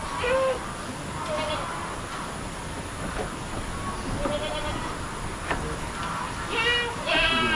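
Several goat bleats, some overlapping, rise out of a busy barnyard background with people talking throughout.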